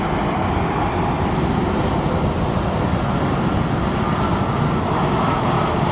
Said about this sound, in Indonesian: Wow, lihat teman-teman, ada pesawat penumpang. Ini pesawat Air Asia.